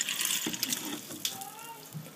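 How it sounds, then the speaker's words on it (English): Water pours from a tap into bread dough for a loaf, a quiet, steady trickle with faint splashes, heard alone and fairly close. "Add water"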